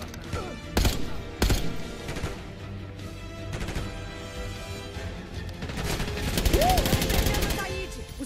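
Bursts of rapid gunfire crackle amid explosions and action noise in Call of Duty Black Ops 6, with brief loud shots near the start and a rising whine later.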